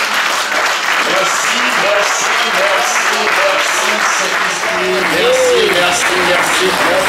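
Church congregation clapping together during a Sunday service, a dense, steady wash of applause throughout, loud and close, with voices singing or calling out over it.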